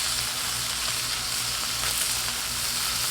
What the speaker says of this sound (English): we're going to sear these sides again, but we're going to go ahead and get these edges now